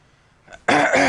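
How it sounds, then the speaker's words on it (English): A person clears their throat once with a short, rough, forceful rasp after a faint lead-in breath, close to the microphone, with no other sound. "I gotta clear my throat."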